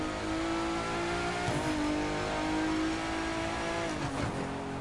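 A Ford Mustang GT3 race car engine in The Crew 2 racing game holds a steady, loud droning roar with slight pitch dips as it shifts, continuous and close with no talk.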